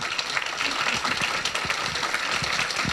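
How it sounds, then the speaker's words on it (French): An audience at a mission congress round table gives warm, sustained applause, a steady wash of many hands clapping in a large room, moderately distant. "vous pouvez les applaudir chaleureusement"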